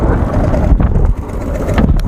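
Strong wind at a fishing platform out at sea, roaring loud and continuous as it buffets the microphone with a dense, heavy rumble and no voices.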